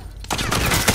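Bursts of rapid gunfire in Call of Duty: Modern Warfare, a dense, loud fusillade of overlapping shots kicking in after a brief quieter moment and continuing to the end.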